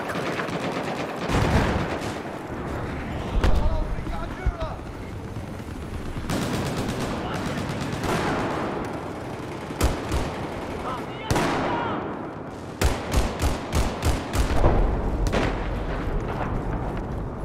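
Gunfire in Battlefield 4, a war shooter played on an Intel i5-1135G7 laptop: loud bursts and single shots throughout, with a rapid machine-gun-like string of cracks near the end and radio voice chatter mixed in.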